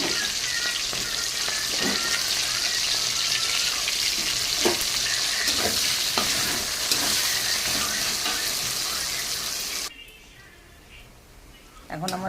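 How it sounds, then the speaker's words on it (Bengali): Chopped onion drops into hot oil and fries with a loud, dense, continuous sizzle, occasional stirring clicks, cutting out sharply near the end to quieter room noise. "এখন আমার তেলটা গরম হয়ে গেছে, এখন আমি দিয়ে দেবো কিছুটা পেঁয়াজ কুচি।"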